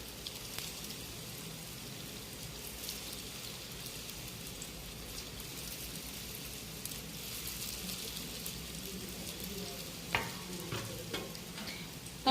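Sev rolls deep-frying in hot oil on a kitchen gas stove at full flame give a steady, even sizzle throughout, with a few light clinks and stirring knocks near the end and no talking.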